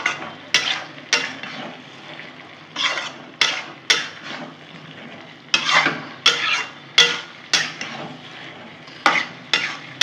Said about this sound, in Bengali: আবার নাড়িয়ে নেব